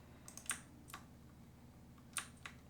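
Keys tapped on a computer keyboard to enter a price, a few quiet, sparse clicks in short bursts separated by pauses, with no talking.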